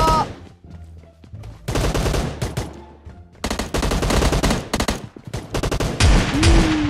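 Rapid automatic gunfire bursts in PUBG Mobile, loud and close, coming in dense volleys separated by short pauses, with game interface tones at the start and end.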